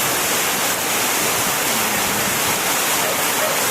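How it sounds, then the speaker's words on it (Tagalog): Heavy rain pours down in a steady, dense wash of noise that fills the whole clip, loud and close, with no voices. It falls on a home whose roof the storm has torn away. "Lakas ng ulan, sinira niya yung bubong namin."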